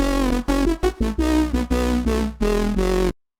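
A synth lead heavily processed with Serum effects plays choppy, gated notes in a rhythmic pattern, each stab cut off sharply before the line stops abruptly.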